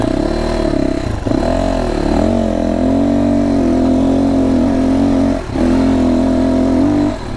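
A FSE300R motorcycle's 300 engine runs steadily close by, a continuous humming drone with brief dips in level around the first and fifth seconds, with no talk.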